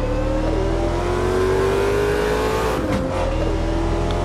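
A car on a race track day revs as it passes, its engine note climbing steadily before a brief burst and fade, loud and close against a constant engine background.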